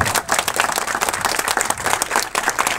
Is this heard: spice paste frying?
no